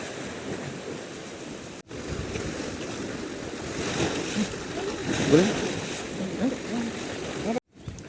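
Sea waves wash against a rocky shore in a constant surging rush with some wind buffeting the microphone, while people talk nearby.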